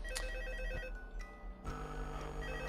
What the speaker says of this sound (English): before the phone even started ringing